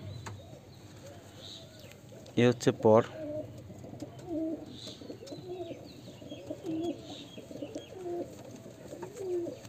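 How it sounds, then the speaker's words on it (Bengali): A red male Murshidabadi Giribaz pigeon coos in a short burst of deep, throaty pulses up close, with softer coos and chirps around it and someone talking quietly underneath. "এটা হচ্ছে একটা মুর্শিদাবাদী গিরিবাজ লাইনেরই পায়রা"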